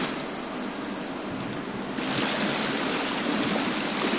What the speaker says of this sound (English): Yep, we got a waterfall down here.